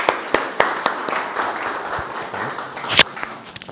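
Audience applause at a startup pitch session, a small crowd clapping with distinct individual claps, moderately close, swelling briefly then tapering off.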